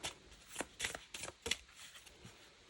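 A small Lenormand card deck is shuffled by hand, giving several soft, papery riffling bursts close by with brief pauses between them. It is quiet overall and no one speaks.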